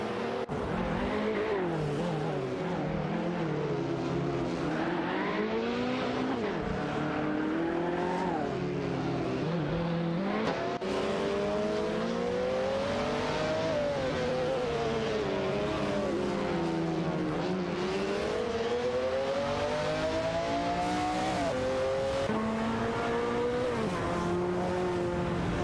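Race cars in an AI racing game roar continuously as engines rise and fall through gear changes. Several cars are loud and close, with occasional tire noise under the steady engine drone.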